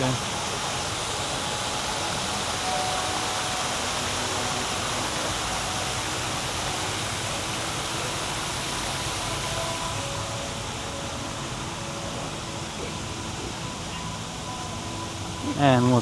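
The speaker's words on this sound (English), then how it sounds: "Beautiful waterfall there." A waterfall in a rooftop garden gives a steady, even hiss of falling water at moderate level, continuous throughout, with a brief burst of other sound at the very end.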